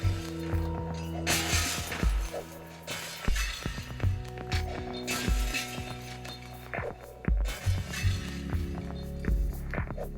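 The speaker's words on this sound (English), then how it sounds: "the glass breaking is really satisfying" Glass panes shattering in the mobile game Smash Hit: repeated bright crashes and tinkling shards, several bursts across the stretch, over a steady musical background.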